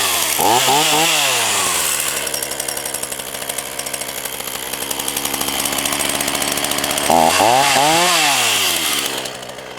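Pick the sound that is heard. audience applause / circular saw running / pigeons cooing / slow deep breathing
circular saw running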